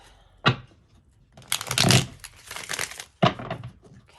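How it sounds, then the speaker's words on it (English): Bursts of papery riffling and crinkling as tarot cards are shuffled, a few separate riffles with brief pauses between, close by and fairly loud. "gonna shuffle one more time because I dislike wonky shuffles."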